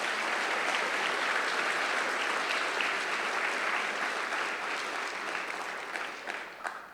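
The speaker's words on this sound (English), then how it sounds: "Please give them all of a round of applause." An audience at a high school safety assembly gives a sustained round of applause, even and moderately distant, tapering slightly toward the end with a few last scattered claps.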